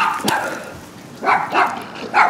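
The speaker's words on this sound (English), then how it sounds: "Dogs are crazy." Dogs bark outside a shaded home garden in a few sharp, separated bursts, close and fairly loud, with short quiet gaps between the barks.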